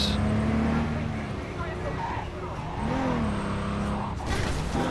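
A stolen car driven in Cyberpunk 2077 gives a steady engine drone with rising and falling pitch and a brief skid, close and continuous, with game sound layered underneath.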